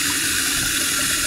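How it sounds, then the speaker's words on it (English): Water pours steadily into a container, a continuous full rushing hiss from start to end, loud and close, with no voices. "I'm filling it up with water"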